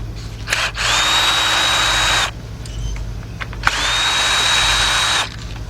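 A power tool spins out 8mm bolts from a 2003 Jeep Liberty Sport 3.7 engine during a rebuild: two loud, close whirring bursts of about a second and a half each, separated by a short pause.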